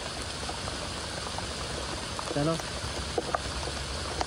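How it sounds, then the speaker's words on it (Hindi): Steady rain falling at a group campsite, a dense continuous hiss of drops with scattered sharper patter, heard alongside brief talk and a few close knocks. "बारिश तो बढ़िया हो रही है, टपर टपर हो रहा है देख रहे हो।"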